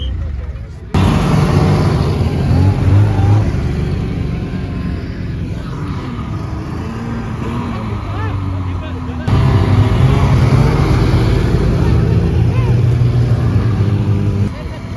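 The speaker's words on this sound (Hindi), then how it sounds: "तो दोस्तों यहाँ पे स्नो बाइक राइड हो रही है।" Snow bikes ride across snow in Gulmarg, their motors droning loud and close with rising and falling pitch, while a person talks over the engine noise.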